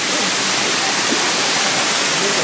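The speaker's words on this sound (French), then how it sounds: "Nam Mueng Waterfall." Nam Mueng Waterfall on Koh Samui roars as a steady, loud, dense rush of falling water filling the whole space with no pause.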